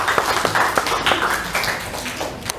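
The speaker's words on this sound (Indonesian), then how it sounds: "Tepuk tangan buat Miska." Classroom applause for a student named Miska at a school literacy program, a short scattered burst of clapping from a small group, fairly close and steady before fading slightly.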